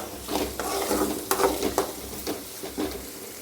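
Onions and tomatoes sautéing in a pan for a country chicken curry, a continuous close sizzle broken by several scraping stirs of the spoon, moderately loud, no talking.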